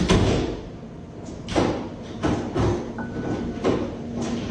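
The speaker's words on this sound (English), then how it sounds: "Okay, there's knocking happening." Knocking on a door in a home, a handful of separate thuds spaced irregularly over a few seconds, fairly close and loud against a quiet room.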